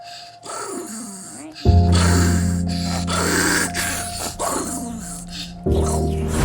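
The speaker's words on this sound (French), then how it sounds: "Pourquoi le chihuahua réagit aussi mal quand sa maîtresse lui met le harnais alors qu'après il est content d'aller sortir?" An aggressive chihuahua reacting as its harness is put on, with sharp snorts, gasps, whimpers and growling vocal bursts, loud and close, alongside a low tonal hum and occasional human sounds.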